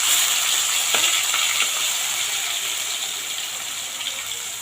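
Curry paste hits hot oil with mustard seeds and cumin in a pan, giving a steady close sizzle with a few sharp crackles near the start, slowly settling and quieting over a few seconds.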